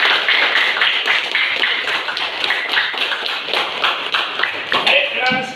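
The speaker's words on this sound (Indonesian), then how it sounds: "Tepuk tangan untuk Bima" A group claps together in a classroom-style setting, with quick, fairly even hand claps layered over murmuring voices and a few thumps and shuffles, close and moderately loud.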